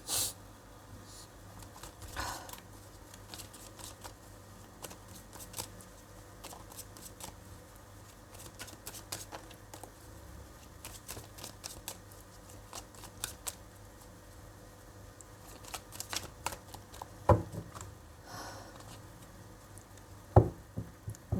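Tarot cards are shuffled softly and close by, with quiet intermittent riffles and taps over near silence.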